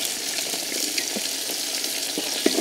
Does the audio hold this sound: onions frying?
yes